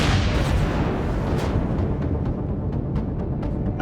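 A gun turret blown up in the Empyrion Galactic Survival game gives a loud, sustained, rumbling explosion with no talk, followed by a string of fainter crackling pops as the blast dies down.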